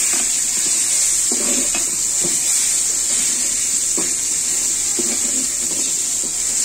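Steady, bright hiss of silver carp pieces frying in hot oil with cumin, salt and turmeric, close and continuous, with faint scattered crackles and spatters underneath.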